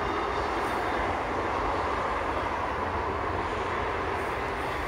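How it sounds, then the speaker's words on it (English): A train rolls past near a woodland walk by Skeoch roundabout outside Stirling, giving a steady, loud broadband rumble that holds evenly for about five seconds with no voices. "There's a train!"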